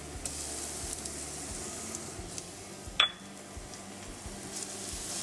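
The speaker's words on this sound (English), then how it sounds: "we're going to let that saute here just for a minute" A generous amount of garlic sautés in a pan, giving a soft, steady sizzle throughout with one sharp metallic clink partway through.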